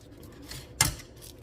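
A single sharp crunch of crispy air-fried chicken sounds up close, a brief crackly burst standing alone in a quiet room.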